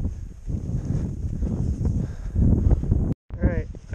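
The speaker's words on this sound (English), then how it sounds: "I apologize if it's a little windy" Wind blows across a frozen lake during winter ice fishing, a steady low rumbling buffet on the microphone under muffled activity, briefly cutting out near the end before a voice speaks.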